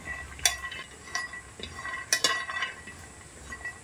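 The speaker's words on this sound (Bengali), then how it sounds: "এবারে তাওয়ার মধ্যে দিয়ে দিচ্ছি কাঁচা বাদামটা এবার আমি ভেজে নেব" Raw peanuts dry-roasting on a tawa give sparse clinks and scraping stirs at close range, a few sharp taps over a quiet rustle with no sizzle of oil.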